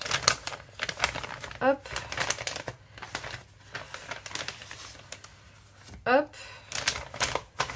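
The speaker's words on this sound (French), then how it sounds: "Alors, j'ai entrouvert l'enveloppe." A paper envelope being opened with crinkling, tearing rustles and light handling noises, while someone talks quietly over it.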